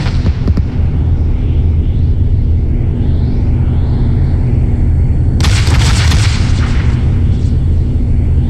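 Cannon fire and explosions in the video game Arma Reforger: loud continuous booming rumble with a sharp blast burst partway through, dense and close throughout.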